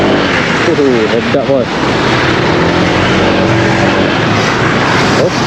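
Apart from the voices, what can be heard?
Honda Vario 160 ABS scooter riding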